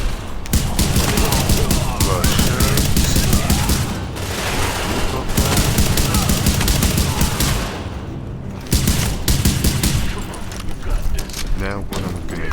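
Dense, continuous automatic gunfire rattles nonstop in The Division video game, loud and close, with brief dips and a few heavy thumps, while a voice talks over the shooting.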